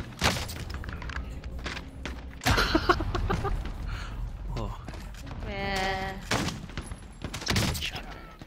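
Shotgun blasts in the online shooter Call of Duty Warzone, several loud sharp booms spread through the stretch amid other game noise, with a player talking and laughing over the action.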